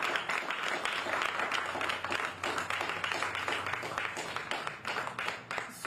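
Audience applause at an announcement of Connecticut's minimum wage increase, a crowd clapping steadily for about six seconds with a mix of individual claps, fairly close and moderately loud.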